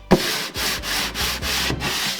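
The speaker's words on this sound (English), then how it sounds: "I have 60 grit sandpaper and my sanding block, and I'm going to go over it" Rhythmic scraping of a sanding block with 60-grit sandpaper on pallet wood, back-and-forth strokes repeating steadily and close up.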